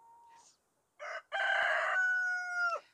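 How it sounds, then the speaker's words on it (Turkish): A rooster crows loudly and close in a vegetable garden, one long drawn-out call after a few short clucks and a brief quiet gap. "Horoz şimdi bize çekim yaptırmaz."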